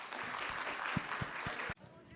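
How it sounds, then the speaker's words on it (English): Audience applause for a civic engagement panel, a broad patter of clapping with a few sharp louder claps standing out, cutting off abruptly near the end and leaving quieter room noise and murmuring voices. "Let's give another big round of applause."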